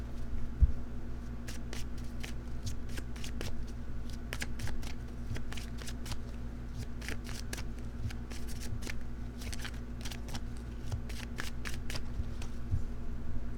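A deck of tarot cards is shuffled close by, with many quick, crisp riffling bursts in an irregular rhythm over a low steady hum, without talk.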